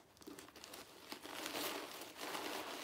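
Stuffing paper crinkling and rustling inside a purse, steady crisp crackles that grow louder midway and continue without pause.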